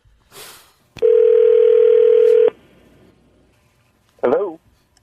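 A telephone dial tone sounds as a loud, steady, pure hum for about a second and a half during a prank phone call, framed by brief voice fragments before and after.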